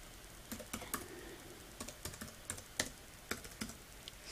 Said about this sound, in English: Now I'm going to type in my name.